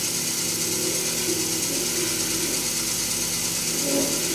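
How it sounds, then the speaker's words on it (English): A skew chisel scrapes an acrylic pen blank spinning on a Harbor Freight mini lathe. A loud, steady rasping grind and motor whir run without break, close to the tool, with no talk. "You can use the skew chisel as a scraper, more or less."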